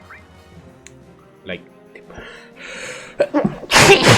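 A single loud, close sneeze bursts out at the end of a short stretch of casual talk and small noises.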